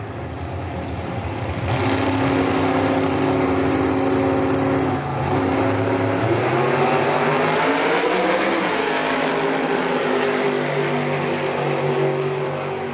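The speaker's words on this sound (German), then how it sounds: "Schubi wird hier jetzt eingewiesen in Richtung Startlichtschranken" A drag racing car at the Hockenheimring builds from idle to a loud, sustained engine roar with rising and shifting pitch as it launches and pulls away, heard without talk over it.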